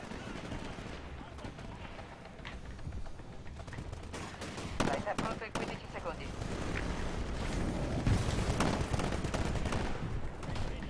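Rapid gunfire from the Titanfall video game on Xbox One, dense bursts of shots and explosive impacts running continuously over the whole stretch, loud and busy with a voice talking over it.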